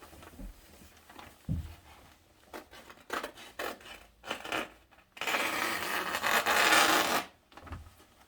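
Scissors cut fabric for a kimono jacket, starting with scattered snips and crisp blade closes and followed by one long, loud, continuous slicing cut, close up and without voices.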